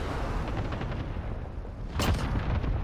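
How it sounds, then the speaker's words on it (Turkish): Cluster strike explosions in Call of Duty Warzone, a rolling series of dull booms and crackling blasts, with a sharper, louder burst near the end. "Ya oraya cluster strike yaptım zaten."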